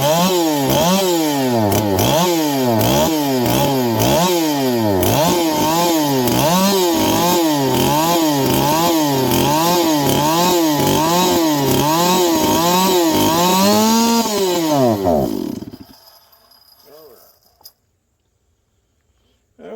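A Stihl MS 460 chainsaw, said to need more power, runs loud and close, its engine revving up and down in steady repeated cycles for about fifteen seconds before shutting off into near silence.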